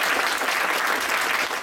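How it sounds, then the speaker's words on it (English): A Fringe festival crowd in Edmonton breaks into applause, a brief, dense and loud patter of many hands clapping without pause. "have a round of applause, please, for Shauna"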